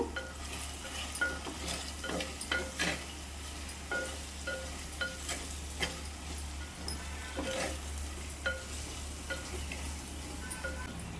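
Bangda fish curry being stirred with chili powder and turmeric in a clay pot: repeated close scraping and clattering strokes over a soft simmering sizzle and a low steady hum, no talking.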